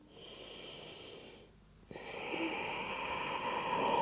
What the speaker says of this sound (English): And just take one more deep breath.